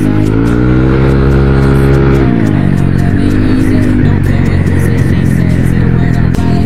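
A Yamaha NMAX scooter fitted with a 62 mm big-bore block revs hard nearby, a loud buzzing engine note that climbs and then drops sharply, settling into a rough, throbbing idle-like drone.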